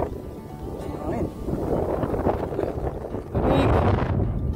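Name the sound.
cold wind on a mountain summit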